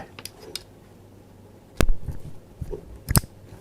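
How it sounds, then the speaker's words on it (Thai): Several short plastic clicks and snaps as an XLR connector is plugged into a dynamic microphone, with one firmer click midway and a couple more near the end, close and fairly quiet. "พอร์ต XLR นะครับเสียบเข้าไป"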